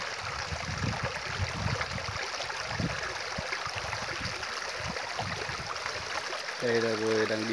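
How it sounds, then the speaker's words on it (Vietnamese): Water flows steadily down a forest stream, a continuous close rushing and trickling wash heard while wading in it, with a brief voice-like tone near the end. "Đây là tôi đang đi ở dưới con suối."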